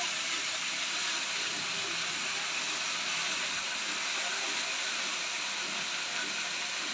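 Spinach curry sizzles in a pan on the stove, giving a dense, steady hiss that stays close and constant throughout.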